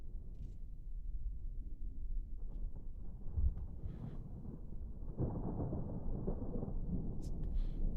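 A low, rolling thunder sound effect rumbles quietly throughout, swelling slightly partway through, with no talk over it.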